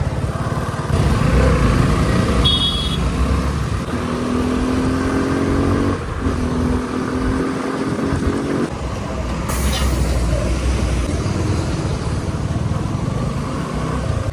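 Steady car traffic on Pipeline Road rumbles throughout, with engines passing close by and a brief high squeal partway through.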